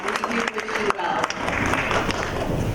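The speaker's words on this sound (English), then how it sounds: "Another round of applause for him." An audience at a Northern California Cherry Blossom Queen program gives a round of applause for Ben Nakajo, with dense, sustained clapping filling the hall.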